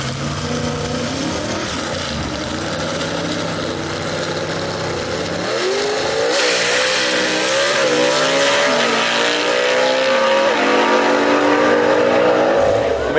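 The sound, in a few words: gasser drag race car engine revving and accelerating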